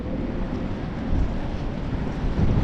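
Strong wind buffets the microphone at a muddy shoreline during crab hunting, a loud continuous low roar that swells and eases with the gusts and has no speech over it.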